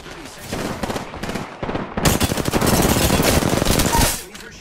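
Rapid automatic gunfire in a video game, loud and sustained in dense bursts that swell into continuous fire before cutting off, with a voice speaking underneath.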